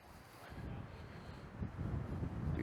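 Wind buffets a wireless clip-on microphone while walking outdoors near an aircraft, a steady low rumbling roar of gusty wind hitting the mic that swells louder toward the end, with no talk.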